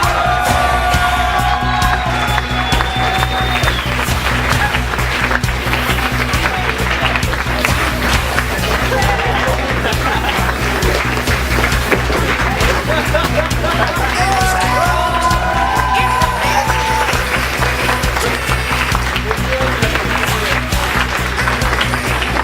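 An audience at a launch party gives steady applause and cheering with scattered whoops and yells, loud and continuous over a low background hum.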